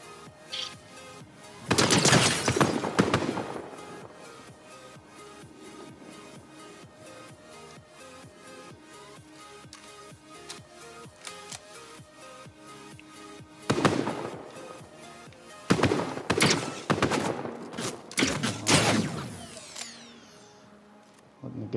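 Video game gunfire comes in rapid automatic bursts, two loud clusters separated by a quieter stretch of game sound.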